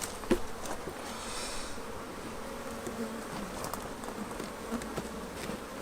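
Dense, steady buzzing of many honey bees in an open hive close by, a continuous droning hum with occasional louder passes.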